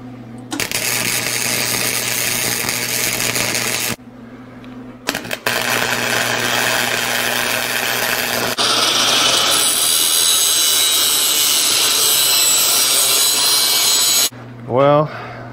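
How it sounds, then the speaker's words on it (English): A metal part being ground down during a Caterpillar D4 transmission and clutch repair, loud sustained grinder passes starting and stopping with short pauses between them, a brief vocal sound near the end. "Just need to grind this down a little bit"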